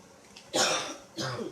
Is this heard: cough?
yes